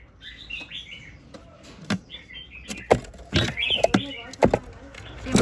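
A caged male songbird, an older wild-caught bird, gives bright high chirps and short warbling phrases close by, mixed with knocks and rustling from the cage.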